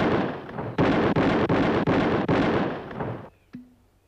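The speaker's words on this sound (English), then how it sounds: "5 shots, 5 seconds." Five rapid rifle shots boom in quick succession at a shooting contest target, each loud blast running into the next with heavy echo, then a fading rumble and a faint ringing ping at the end.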